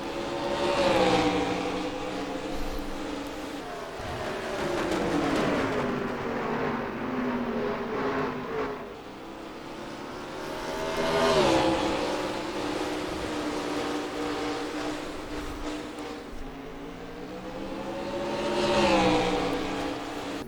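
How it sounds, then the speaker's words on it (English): Race cars in an iRacing stock-car event at Delaware at night, a pack of about nine cars running hard with engines droning and rising and falling as they pass, loud and continuous with no talk. "Nine cars still racing hard."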